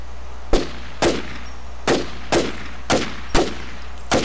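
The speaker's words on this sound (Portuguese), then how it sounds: "Eu tô escutando o tiro, mano." Sharp gunshots ring out in The War Z / Infestation, a survival shooter, with about seven loud single reports spaced roughly half a second apart, each with a brief decaying tail, and no talking between them.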